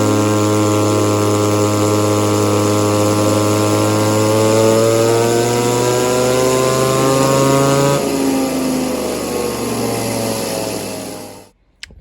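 An Echo 2511 clone chainsaw engine with a modified muffler, run on a dyno with a little extra fuel, screams at steady high revs, loud and close, dips in pitch, then cuts off abruptly near the end.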